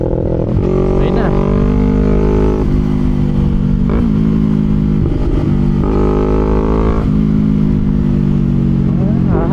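FKM Falcon X400 motorcycle engine revving up and settling back in several loud, close bursts over a rough idle, with mechanical clatter between throttle blips.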